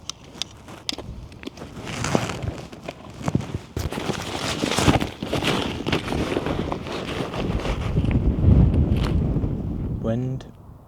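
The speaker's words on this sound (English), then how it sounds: "Wind." Wind blows at an outdoor wild camping spot, buffeting the microphone in rough rumbling gusts that rise and fall, with some rustling handling noise and a faint voice at times.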